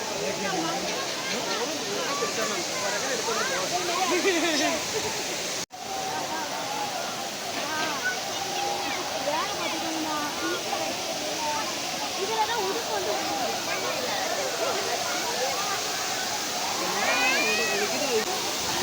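The Courtallam waterfall roars as a steady broadband rush of falling water throughout, while a crowd of people talk and shout over it nearby.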